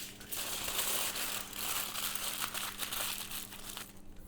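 Aluminum foil crinkles and crumples steadily at close range as it is folded around garlic and olive oil into a small bundle, with no voices.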